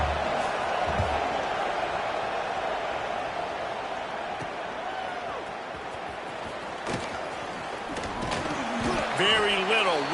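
A stadium crowd in the College Football 26 video game roars steadily through a punt return in a Pitt vs. Northwestern game, a dense, continuous cheer with whistles and scattered thumps near the end.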